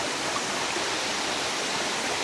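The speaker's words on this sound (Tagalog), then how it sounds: "Taas ng falls na to." Ambon-Ambon Falls in Tagaytay roars with a steady, dense rush of falling water, constant and close with no other sounds.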